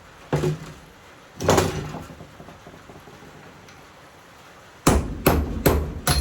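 Hammer blows knocking apart copper and brass scrap: two sharp metallic strikes, a pause, then a quick burst of four or five hits in a row, close and loud with no talk.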